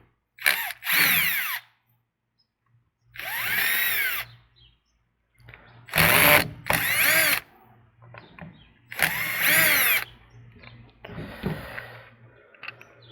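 A power driver backs out the four screws holding the oil tank on a Ryobi PC30 combi curved trimmer, heard as about five short, close whirring bursts separated by pauses, with some quiet breathing in the gaps.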